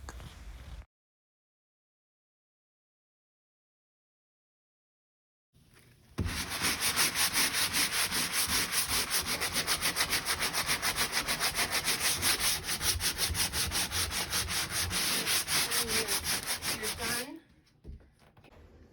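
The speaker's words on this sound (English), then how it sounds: "I'm prepping the closet now to be sanded and then painted" Steady, rhythmic sanding of a wooden closet, a loud gritty rasp of back-and-forth strokes lasting several seconds after a short silence.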